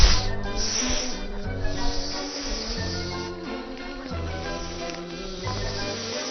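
A snake tablet firework burns with a steady, loud hiss lasting several seconds, with music playing underneath.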